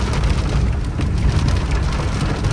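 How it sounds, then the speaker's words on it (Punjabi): Heavy rain pours steadily in Multan near the BZU University road, a dense continuous hiss and patter of drops with no talk, loud and close throughout. "ਬਹੁਤ ਹੀ ਤੇਜ਼ ਬਾਰਿਸ਼ ਹੋ ਰਹੀ ਹੈ"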